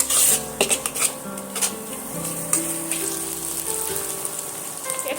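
Spices and chilli powder being sautéed in a pan for a steamed-egg curry: metal utensil scrapes and clinks against the pan over a soft sizzle, with irregular knocks and stirring strokes close by.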